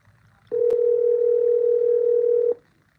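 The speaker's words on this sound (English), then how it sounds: "The phone is ringing, you guys." An outgoing phone call rings on the line: a single clear, steady electronic ring tone lasting about two seconds, loud and close, then quiet.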